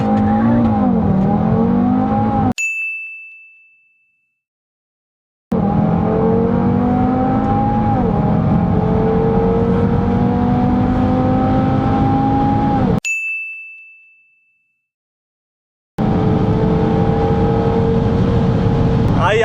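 A car nicknamed the Baby Lamborghini or Baby R8 accelerates hard, its engine climbing through the revs in two long pulls, each cut off by an abrupt gap with a brief chime, loud and close from inside.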